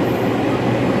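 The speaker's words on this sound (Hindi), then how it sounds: "भाई लोगों मेट्रो स्टेशन में आ चुके हैं" A metro train at a station in Delhi, a steady dense rumble with faint wheel clatter filling a short moment, loud and close, with no voices.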